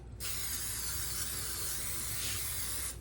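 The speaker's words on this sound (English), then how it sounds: "I'm just taking my canola oil, okay? And I'm just spraying it. Give it a good spray." Canola oil cooking spray is released onto halved spaghetti squash in one continuous, close, loud hiss lasting nearly three seconds, with no talking.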